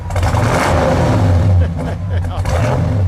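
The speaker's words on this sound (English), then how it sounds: "Give me a good rev." A 1970 Chevrolet Chevelle SS 454 muscle car engine revs up with a deep, loud roar that rises and falls, heard close alongside people talking.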